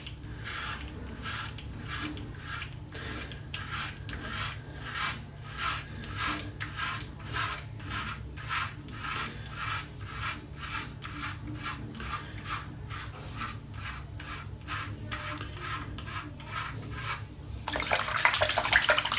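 A razor blade scrapes against the grain across a shaved head in rapid, evenly repeated rasping strokes, close and crisp, ending with a burst of running water as the blade is rinsed.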